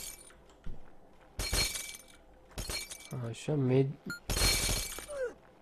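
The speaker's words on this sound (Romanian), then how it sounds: "Trebuie să spar niște sticle." Glass bottles shatter in the Happy Wheels video game: three or four sharp, bright crashing bursts spaced a second or so apart, interleaved with someone talking.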